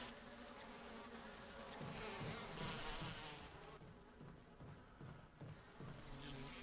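Swarm of bees or hornets buzzing in the video game Resident Evil (2002), a faint continuous insect drone that swells and fades slightly, with no speech.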